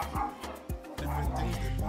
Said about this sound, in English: CC and Parker were barking